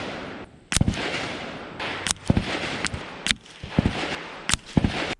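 Rifle fired at 75 yards with 40 grain subsonic ammunition: six sharp, loud cracks spaced roughly a second apart over steady outdoor background noise.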